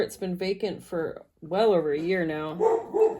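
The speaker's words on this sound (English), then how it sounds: "Sorry about the dog barking." A dog barks repeatedly in short yips and bow-wows, upset by construction work on the vacant house next door, mixed in with someone talking close by.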